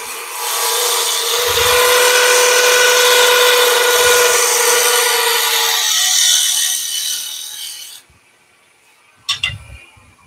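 A gouge takes a final light skim cut across spinning wood on a lathe, a steady bright whir of continuous cutting for about eight seconds that then stops, with a couple of brief knocks near the end.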